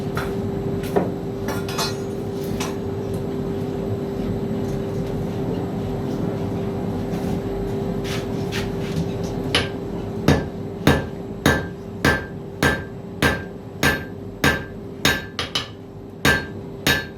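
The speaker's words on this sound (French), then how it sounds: "puisqu'après on va l'étirer au marteau" A blacksmith draws out hot metal with a hammer. After a stretch of background clatter and noise come a dozen sharp, ringing blows at an even, steady rhythm, loud and close.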